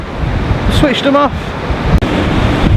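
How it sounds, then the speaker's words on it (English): Strong wind roars by the sea at Blackpool at night, buffeting the microphone loudly, and a voice speaks briefly over the gusts while fishing. "It's getting very windy and blustery"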